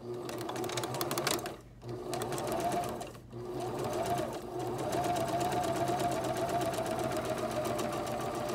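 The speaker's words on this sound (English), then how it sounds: "now we will start sewing on the top material" Sewing machine top-stitching the outer fabric and inner lining of a cloth face mask, a steady fast whirring drone with brief pauses and restarts, close and continuous.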